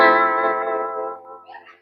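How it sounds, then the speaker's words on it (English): A simulated rotating Leslie speaker, with LFO panning, carries a sustained organ-like tone that wavers and swirls for under two seconds before fading, loud and close with no talking. "So that sound was originally made with literally a rotating speaker called a Leslie."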